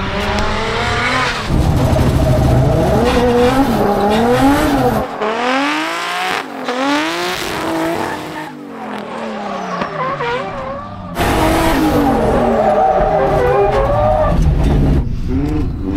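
A 1JZ-engined NASCAR race car drifts near a gravel trap, its engine roaring loud and close while the tires squeal through repeated slides, with surges and brief lifts off the throttle.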